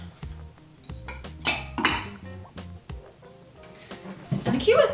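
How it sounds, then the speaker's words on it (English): Ice cubes clink and rattle against a mixing glass as a Negroni gin cocktail is stirred, with irregular bright chinks growing busier toward the end. "And then we're going to add some ice and stir."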